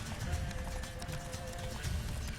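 Rhythmic clip-clop of a horse galloping in The Witcher 3: Wild Hunt, steady hoof beats running continuously and fairly loud, with no talk over them.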